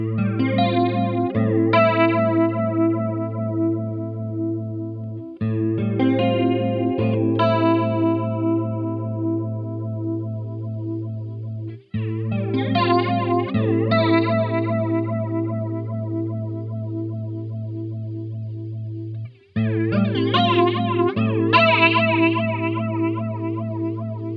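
Guitar chords run through an EHX Deluxe Electric Mistress XO flanger pedal with the color control turned high, a loud, swirling, resonant sweep over sustained strums, with a few fresh chords struck and brief gaps between them.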